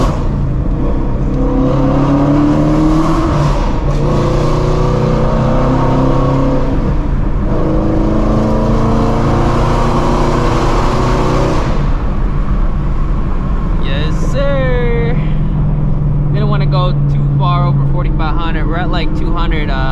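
Shelby GT350 Mustang engine revving and roaring through a tunnel, a loud sustained exhaust drone with rising and falling pitch that fills the space, then fades into quieter cruising with a voice talking over it.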